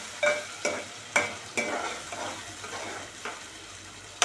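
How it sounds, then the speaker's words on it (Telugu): Masala spices frying in hot oil with a pinch of salt, heard as a soft, steady sizzle broken by several sharp scraping stirs at an irregular rhythm, close and moderately loud with no voices. "ఇలా ఇది మంచిగా ఆయిల్లోనే ఫ్రై అవ్వాలి."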